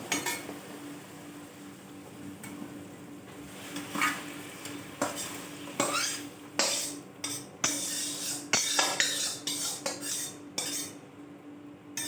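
Meat fries in a kadai while a metal spoon stirs it, scraping and clinking against the pan in irregular bursts over a soft, steady sizzle.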